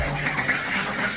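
Ducks on a Bangladeshi duck farm quacking softly in a close, continuous murmur of overlapping calls, with no clear single quack standing out.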